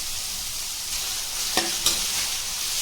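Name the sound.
onions and vegetables frying on high flame for fried rice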